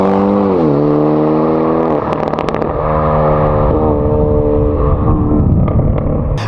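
A Hyundai Elantra N with a titanium valved exhaust revs hard, its engine note climbing and falling in loud, close, sustained pulls with a brief crackle mid-rev.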